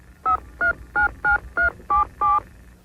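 Seven telephone keypad dialing tones beep in a steady, evenly spaced sequence, clear and alone, during a 1995 law firm TV ad.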